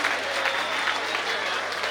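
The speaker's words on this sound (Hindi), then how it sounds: "जोरदार तालियां भी राजेंद्र के लिए।" Crowd clapping at a ceremony honouring a government teacher, a dense, bright wash of applause from many hands, steady and unbroken for the whole moment.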